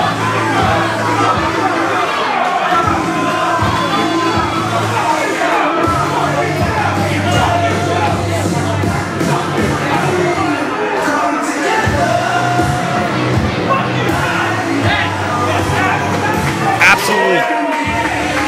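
A wrestling crowd at an intergender tag match roars and yells continuously, loud and close, with shouts, whoops and cheering voices layered over a dense, steady din that swells slightly near the end.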